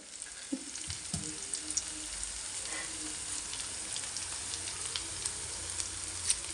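Carrots and onions fry in a pan, a steady close sizzle with faint crackles and occasional scrapes of stirring.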